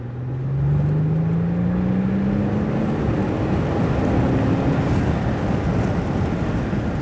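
A Mercedes CL65 AMG twin-turbo V12 pulls hard at wide open throttle, a loud steady drone with a rising engine note sweeping upward, heard from inside the car with no talking.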